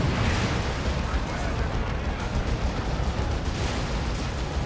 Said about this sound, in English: There's that big plasma blast gun.